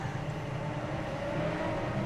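A big tractor engine drives along on a road, a steady close rumble with an even mid-range drone and no talk.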